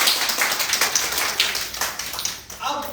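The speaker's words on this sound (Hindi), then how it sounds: "मैम के लिए जोरदार तालियां बजती हैं।" Audience clapping in rapid, scattered claps, a short close burst filling the room before tapering off.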